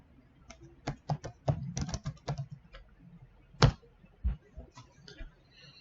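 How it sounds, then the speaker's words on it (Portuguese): Typing on a computer keyboard to enter a name into an Excel spreadsheet, heard as irregular bursts of close, crisp key clicks with short pauses in between and no voice over them. "E vamos digitar."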